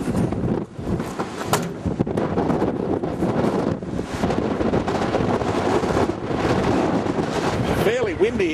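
Strong outdoor wind buffeting the microphone in the Grampians, a loud continuous roaring rumble with gusts throughout, with a voice briefly heard near the end.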